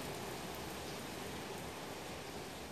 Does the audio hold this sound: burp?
no